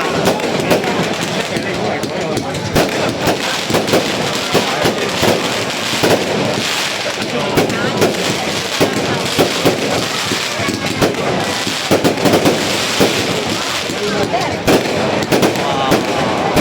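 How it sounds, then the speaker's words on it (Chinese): Fireworks exploding at a public display, a dense, continuous barrage of loud cracks and bangs with crowd voices and talk mixed underneath. "沙德放烟花。"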